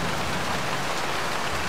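Steady rain falls outside a yard in a dense, even hiss of drops, loud and continuous with no voices.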